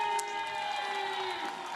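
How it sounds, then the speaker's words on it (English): A cycling crowd cheers for Vincenzo Nibali at a time-trial stage, with a sustained distant roar and whoops. A steady tonal hum runs underneath, and it fades slightly toward the end. "Huge cheer goes up for Vincenzo Nibali"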